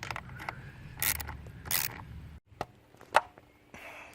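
Metal clicks and scrapes as a 10 mm wrench tightens a battery terminal nut on a Chevy Cruze, with several short ratcheting and clinking sounds up close and brief quiet gaps between.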